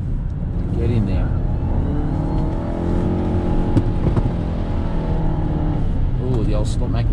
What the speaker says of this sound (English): It still sounds like somebody's being strangled under the bonnet.